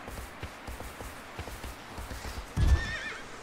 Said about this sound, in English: Oh, where are you going, horse?